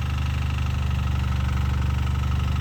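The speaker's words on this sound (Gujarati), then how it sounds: "ટ્રેક્ટર ઓરું આવી ગયું" A tractor engine idles steadily close by, a low, even chugging rumble that holds constant throughout.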